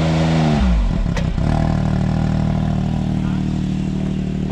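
A car engine with its catalytic converter deleted idles with a deep, throaty drone recorded a couple of feet from the exhaust pipe, after a brief burst of higher revving that drops back to a steady rumble.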